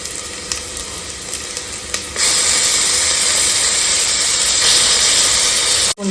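A spoonful and a half of ginger garlic paste drops into a pan of frying onions for a vegetable pulao; a low sizzle jumps suddenly into a loud, sustained hiss that continues close by.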